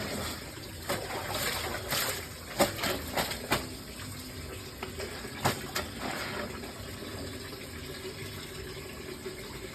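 Water sloshes and splashes in quick bursts as clothes are washed by hand, with irregular slaps and trickles close by over a steady background, and no one talks.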